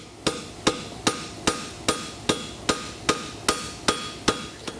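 A hammer strikes horseshoe stock on a 200 lb anvil as a farrier draws it out, giving eleven sharp, ringing metallic blows at a steady, even rhythm, close and loud with no talking.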